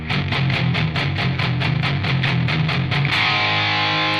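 Electric guitar run through a Positive Grid BIAS distortion pedal on a heavy preset, a fuzz-like full-gain tone with scooped mids: steady rhythmic chugging, loud and close, that swells into a sustained ringing chord at the end.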